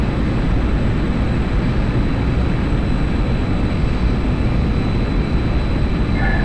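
An A-10 attack jet flying in the DCS combat flight simulator, heard as a steady, loud, unbroken engine roar with deep rumble throughout.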